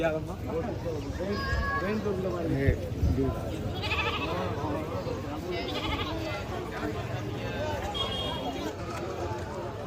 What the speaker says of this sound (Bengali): তারা অনেকগুলা ছাগল নিয়ে এসেছে